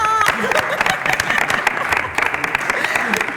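An audience claps for a panel at the close of a media empowerment discussion, with dense applause running throughout and a few sharper hand claps standing out near the microphone.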